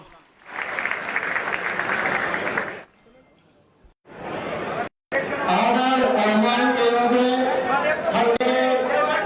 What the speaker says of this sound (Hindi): जोरदार तालियों से इनका स्वागत कीजिएगा